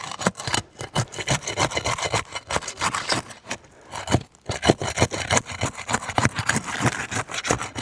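Roof shingles are pried loose with scraping, rubbing and cracking bursts in uneven strokes, up close and fairly loud, with short pauses between efforts.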